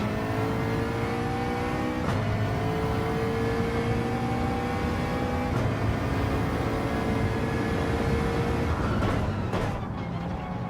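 Race cars in Gran Turismo 7 online daily racing roar off the start, several engines revving and climbing in pitch together, loud and steady with gear changes breaking the whine.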